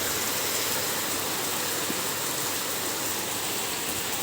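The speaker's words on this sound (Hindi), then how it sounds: "सुबह सुबह देखिए बारिश ऐसी शुरू हो गई है" Steady, dense rain hisses evenly throughout, a continuous wash of falling water with no voices.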